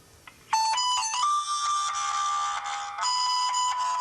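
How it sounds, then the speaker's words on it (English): A bright electronic phone ringtone plays a repeating melodic pattern of high tones, loud and steady, with no voices. "That is the orange ringtone there."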